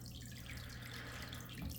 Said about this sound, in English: So that's what the surface agitation looks like with the water level down a little bit.